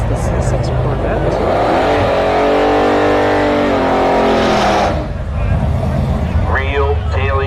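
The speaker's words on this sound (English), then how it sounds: "Got the Firebird going up against the C6 Corvette." A 1971 Pontiac Firebird drag races a C6 Corvette at a no-prep event at Orlando Speed World. Engines rise in pitch as they accelerate, then die off, and a second revving sweep follows, with a voice talking over them.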